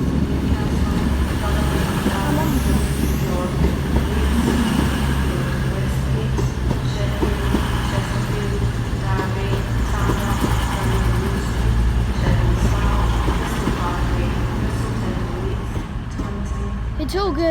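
A Cross Country Class 220 Voyager diesel train bound for Plymouth rumbles at Edinburgh Waverley station, a loud continuous engine drone and rail clatter, with a voice talking over it.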